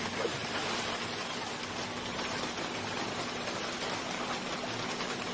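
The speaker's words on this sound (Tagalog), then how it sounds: "Naulan kasi." Rain falls steadily by a pool at a poolside villa in Thailand, a dense, even hiss of drops on water and surfaces, continuous and fairly close, with a faint low hum underneath.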